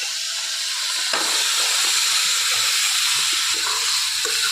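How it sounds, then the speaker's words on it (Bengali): Chopped raw potatoes tipped into a hot pan for a jackfruit-fibre dish. A loud, close, steady sizzling hiss swells just after the first second and holds to the end, with faint scraping underneath and no talk. "এখন এখানে যে কুচিয়ে রাখা আলুগুলো আমি এখানে দিয়ে দিচ্ছি"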